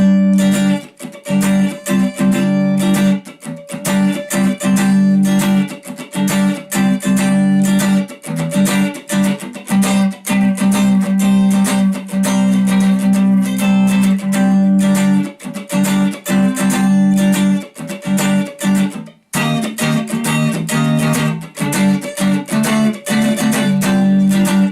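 A guitar plays a song from the top, steady strumming and picked bass notes, loud and continuous, with only a brief pause near the end.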